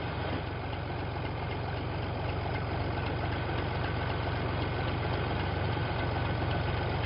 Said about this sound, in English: but I'm driving a tractor.